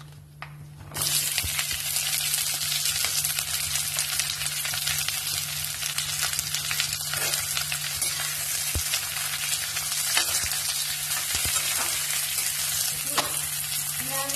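Onion and a bay leaf fry in hot oil in a pan, giving a steady, loud sizzle that starts abruptly and carries on with faint occasional clinks, with no talking.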